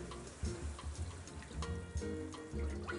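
Beef stock, about three quarts, pours into a pot of caramelized onions, giving a faint, steady watery splashing and trickling with a few soft knocks.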